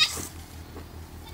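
Goats bleat near a rural highland building site: one short, close bleat opens the sequence, then a fainter call follows, over a low background hum.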